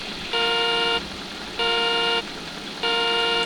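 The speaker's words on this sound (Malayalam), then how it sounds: "ഇനി ജസ്റ്റ് ഒന്ന് ഹോൺ അടിച്ച് കാണിച്ചു തരാം" A vehicle horn sounds three times, each blast about half a second long and evenly spaced, bright and steady, close and loud over a faint background hiss with no talking.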